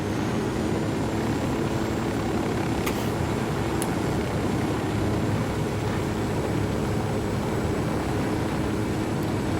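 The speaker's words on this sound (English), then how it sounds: "I like the Apache-looking helicopter, but this one is probably the most maneuverable." Helicopter flying in the Ghost Recon Wildlands video game, its steady engine and rotor drone filling the whole stretch at an even, constant loudness with no voices.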